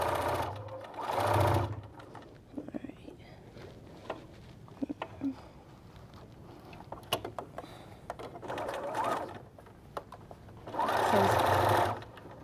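Sewing machine stitching a bag lining closed in a few short bursts of rapid mechanical chatter, close by, separated by quieter stretches with light handling clicks and fabric movement.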